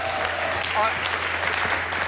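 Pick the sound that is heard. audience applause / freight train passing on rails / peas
audience applause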